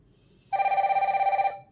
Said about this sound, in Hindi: वॉच में रिंगटोन प्ले हो रही है और वॉच कर रही वाइब्रेट